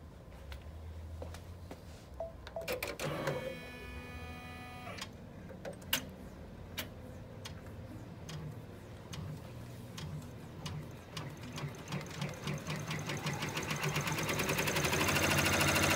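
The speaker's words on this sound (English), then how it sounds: "This will stitch onto the fabric to show you where you are going to lay your first piece of" An embroidery machine sews an appliqué placement stitch onto fabric, a steady, fast mechanical stitching rhythm with ticking needle strikes that grows louder and denser toward the end.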